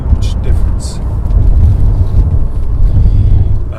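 Heard from inside the cabin, a 1994 BMW 850CSI fitted with a dyno chip and Racing Dynamics exhaust drones with a deep, steady engine rumble on the road, with a voice speaking over it.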